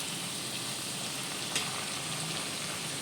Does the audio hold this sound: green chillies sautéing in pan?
yes